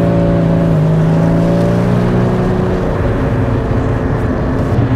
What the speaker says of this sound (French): quand on se met en position sport, on a le petit coup de gaz de rétrogradage